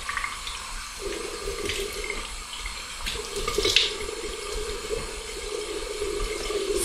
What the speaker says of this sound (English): The warm water, we're going to splash it over our face to maintain those pores to be open.